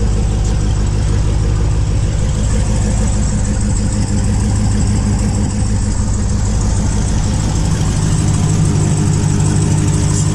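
A 2016 Dodge Challenger Hellcat idles just after starting, a loud, deep, steady engine burble that holds for about ten seconds with a faintly uneven pulse and no voices.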